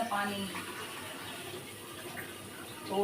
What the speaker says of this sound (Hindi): पानी मैंने डाल दिया है इसमें